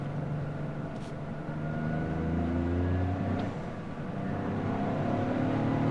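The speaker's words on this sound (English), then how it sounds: "I don't know if you can hear that blow-off valve" A 2023 Toyota GR Corolla's turbo engine accelerating from inside the cabin, a rising engine note with brief airy whooshes of the blow-off valve between gear changes.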